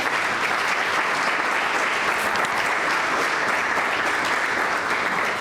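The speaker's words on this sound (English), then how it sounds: "Let's give her a round of applause." Sustained audience applause fills the room at a business networking event, a steady dense clatter of many hands clapping at even loudness throughout with no voices over it.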